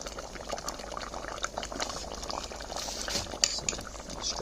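Maya-style beans simmer in a pot over an open fire, a close bubbling boil with liquid gurgles and a few light clinks of a utensil against the pot, no voices.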